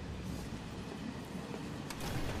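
A freight train in the Final Fantasy 7 Remake video game rumbles steadily, a continuous low mechanical roar with faint rail clatter and a brief higher clank near the end.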